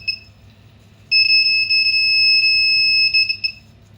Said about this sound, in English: here the buzzer alerts in the real time